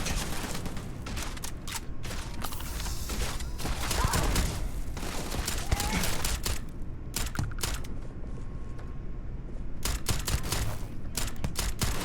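Heavy, sustained gunfire from Starfield on very hard mode: dense, rapid volleys of shots crackle almost without pause, loud and close, with a brief lull partway through.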